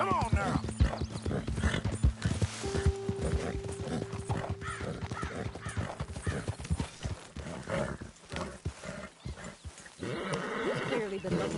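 In Red Dead Redemption 2, a horse's hooves clop in a steady rhythm close by, with occasional snorts, under character talk and ambient game sound.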